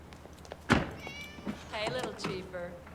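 A cat meows a few times in a scene from The Silence of the Lambs, with a sharp thunk near the start and a voice calling to it under low background noise.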